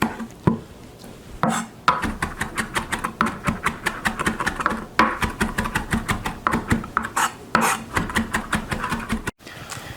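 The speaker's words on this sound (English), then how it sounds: "I'm just going to cut up some fresh parsley here." Knife chopping fresh parsley on a cutting board, a rapid steady series of close, crisp taps over several seconds with brief pauses.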